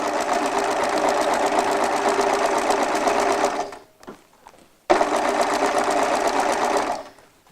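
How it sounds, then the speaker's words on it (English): Sewing machine running steadily as it stitches down the pinned, folded edge of Christmas bunting fabric, a loud continuous whir that cuts out briefly for a short pause before resuming and then stopping. "I'm going to machine down on that folded edge where my pins are"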